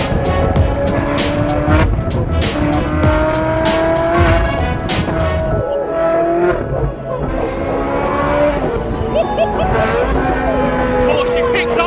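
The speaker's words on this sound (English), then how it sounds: "Arbitrary exhaust system on it, and when you change gear, it's like an actual backfire every time." A Liberty Walk Ferrari 458 with an aftermarket exhaust accelerates hard, its engine note rising through the gears in loud, close sweeps, with sharp cracks at the shifts and occupants exclaiming over the roar.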